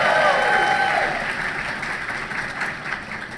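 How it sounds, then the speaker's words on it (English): An audience at the 2016 CEDA debate awards ceremony breaks into loud, dense applause that is strongest at the start, then eases slightly but keeps going throughout, with faint crowd voices underneath. "Gabe is here, so you can clap."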